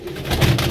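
A pigeon coos briefly and softly at close range, a low throaty murmur with no talk over it.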